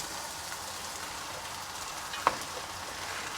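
Vegetables with diced tomatoes are stirred quickly in a cooking pan over a faint steady frying hiss, with one sharp scrape or clink of the utensil near the end.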